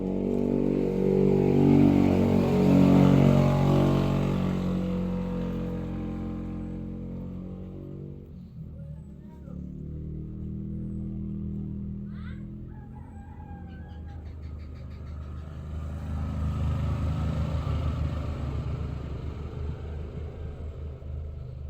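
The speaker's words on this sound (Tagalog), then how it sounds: "maraming mga sasakyan na dumaan ngayon guys" Vehicles pass along a rural road on a Sunday, a loud rumbling engine approaching and fading, then a quieter lull with a brief high call, before another vehicle rumbles by nearby.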